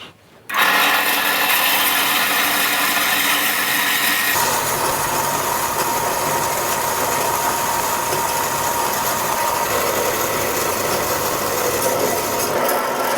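A power saw blade cuts through a one-inch-thick bronze block, a loud continuous grinding whine that shifts pitch partway through and stays steady to the end.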